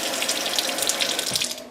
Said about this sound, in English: we're just pouring some water in there so that we can give them a good rinse